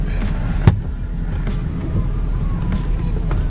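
Steady low engine rumble and road noise from inside a moving car, with a brief knock partway through and no talking.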